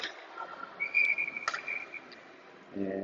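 Referee's whistle at an ice hockey game, a clear shrill blast of about a second cutting through arena crowd noise, followed by a second shorter tone, with a voice coming in at the end.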